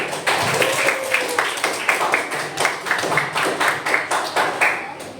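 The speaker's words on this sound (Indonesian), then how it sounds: "tepuk tangan untuk kita semua" Students in a classroom clap together, a loose rhythmic patter of individual hand claps that rises and falls in bursts, fairly close and without talk over it.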